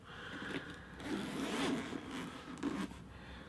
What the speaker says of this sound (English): They do feel nice, those zips.